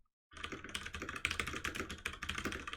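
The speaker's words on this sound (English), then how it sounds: "I'm gonna turn off my air conditioning so that y'all can get the keyboard sounds." Fingers clatter rapidly on a computer keyboard after a brief silence, producing quick, uneven bursts of close, crisp keystrokes at a fairly soft level.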